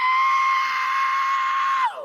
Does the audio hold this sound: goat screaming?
yes